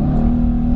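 A Mercedes-AMG engine holds a steady, loud revving drone while accelerating, a strong low hum heard up close for under a second with no voices.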